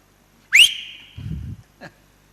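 A single short whistled note sliding upward, clear and close, followed by a low rumble and a faint brief click; no talking.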